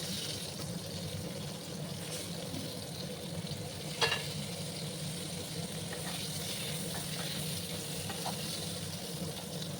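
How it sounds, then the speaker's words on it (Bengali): Pointed gourd and potatoes frying together in a pan give a soft, steady sizzling hiss, with one brief clink midway, close but quiet. "এবার আমি পটলগুলো দিয়ে দেবো, একসাথে ফ্রাই করে নেবো।"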